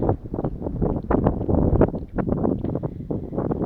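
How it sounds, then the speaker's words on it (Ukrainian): Cold wind gusts buffet the microphone in uneven, rushing bursts, fairly loud and close, with no voices. "Бо вітер холодний піднявся."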